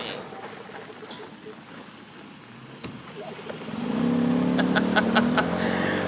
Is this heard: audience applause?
no